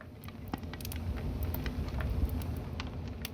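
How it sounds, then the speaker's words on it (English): A Minecraft blast furnace burning: sharp, sparse crackles and pops scatter over a low, steady roaring hum, with no voices. "A blast furnace being fired."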